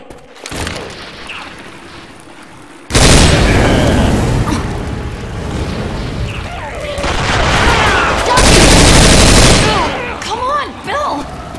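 A grenade blast and rapid gunfire from the Left 4 Dead 2 shooter game, on the Ravenholm map, form loud sustained roaring bursts up close, with a few voices shouting between them.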